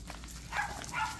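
Puppy at a grandmother's house giving two quick, faint high barks nearby, separated by a short pause, against a quiet background.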